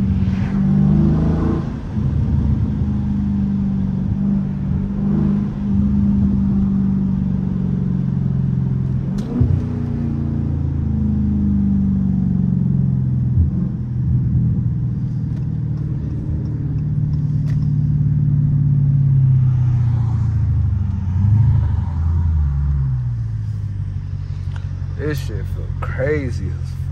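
A Dodge Charger or Challenger Scat Pack V8 rumbles and revs through hard acceleration pulls on a city street at night, heard from inside the cabin as a steady, loud low drone that rises and falls with each pull, while people talk over it.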